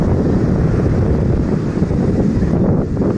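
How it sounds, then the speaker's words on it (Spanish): Sea waves rolling in at Barra Vieja beach, with steady wind buffeting the microphone and a loud, continuous broadband roar of surf throughout, no distinct breaks. "Miren nada más las olas."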